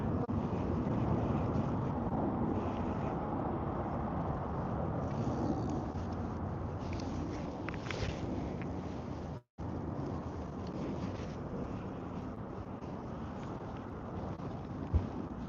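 A fishing boat's motor runs steadily on open water, a continuous low rumble mixed with wind buffeting the microphone, with a brief cut partway through.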